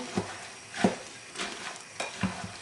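A thick poppy seed filling with dried fruit is stirred with a spoon for a royal poppy seed cake, giving several soft, wet scraping strokes at a slow, uneven rhythm, close and fairly quiet with no talking.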